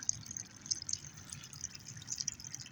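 Water runs from a garden hose onto sediment, eroding it, with a steady soft flowing and trickling wash and light dripping splashes, close and fairly quiet.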